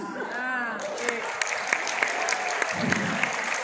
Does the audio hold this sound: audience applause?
yes